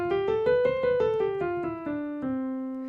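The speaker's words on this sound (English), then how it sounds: "Today we're looking at the major scale, which sounds like this." A major scale played on an instrument, with about ten clean plucked notes climbing and then descending at an even pace. It is close and moderately loud, with the last note ringing out.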